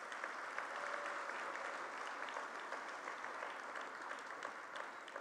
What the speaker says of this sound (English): give the Ansel McCall Foundation a round of applause